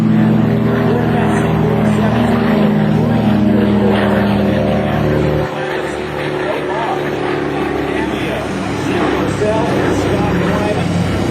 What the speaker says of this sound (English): That, ladies and gentlemen, that aircraft was known as the C-47.